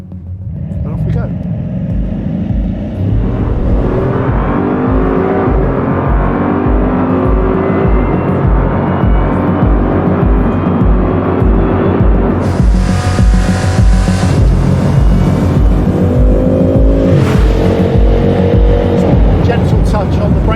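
A Bugatti Chiron accelerates toward a 420 km/h top speed, a loud, heavy engine roar climbing steadily with rushing wind noise, heard from inside the cabin under ongoing talk.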